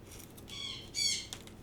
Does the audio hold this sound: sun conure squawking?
yes